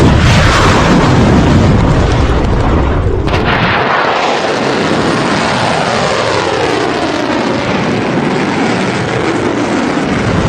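Iranian Qasem Haji Qasem missiles launching together, a loud, continuous, close roaring blast that fills the whole stretch with no voices.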